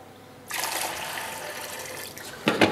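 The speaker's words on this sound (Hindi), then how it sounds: "इसके अंदर थोड़ा सा पानी डालेंगे।" Water is poured into chickpeas with a little salt in a pressure cooker, a steady close pouring rush that starts suddenly, runs on, then ends with a brief louder splash.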